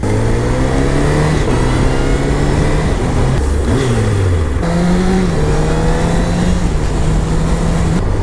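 A used Honda CBR1000RR liter sportbike on a test ride, its engine revving up loudly through repeated rising pitch sweeps with brief drops at each gear change, close and continuous over road and wind noise.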